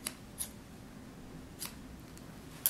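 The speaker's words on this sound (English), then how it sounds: "when you cut your thread, try and cut it on an angle like this" Scissors snip through sewing thread at an angle, a few brief, crisp cuts spaced apart and close by, with a final sharper snip at the end over faint room noise.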